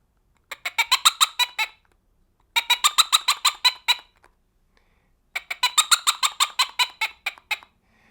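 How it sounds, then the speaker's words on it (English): Three bursts of rapid, high-pitched bird-like calls from a bird-call whistle, each a quick run of about eight to ten squeaky notes, separated by short silences. "This is, again, is for bird call"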